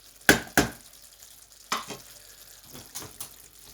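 Softened onion cooking in a pan for lamb keema, with a few sharp stirring scrapes and gentle frying sizzle heard close up, no talking.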